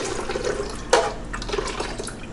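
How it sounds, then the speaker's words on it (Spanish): A glass of water poured into a pot for cooking red rice with blended tomato sauce, a close splashing gush with a sharp surge near the start, then trickling under kitchen noise. "Aquí le vamos a echar el agua, un vaso del agua."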